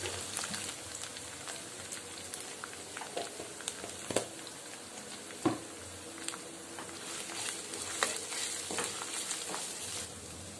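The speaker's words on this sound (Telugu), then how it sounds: "అల్లం పేస్ట్ పచ్చివాసన పోయేదాకా వేయించుకుందాం" Ginger paste frying in a pan for a fenugreek-leaf and tomato curry: a steady close sizzle with scattered pops and a few louder scrapes of stirring, no voices.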